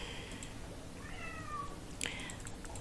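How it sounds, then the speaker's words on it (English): A cat in the farming video game Fae Farm gives a soft, short meow over quiet background game audio, with a faint click or two around it. "That is the kitty"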